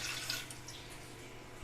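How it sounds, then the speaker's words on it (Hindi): Water runs steadily into a frying pan in a home kitchen while tea with sugar, tea leaves and cloves is being made, a soft continuous pouring splash with no talk over it. "डालूंगी इसमें पानी।"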